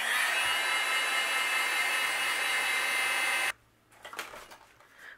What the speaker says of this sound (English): I'm going to use my heat gun to help speed up the drying process here.